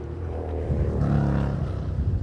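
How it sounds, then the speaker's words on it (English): Noisy motorbikes passing through woodland, a rising and falling engine roar that swells to a peak midway and lingers, fairly loud and close, with no voices. "Noisy motorbikes."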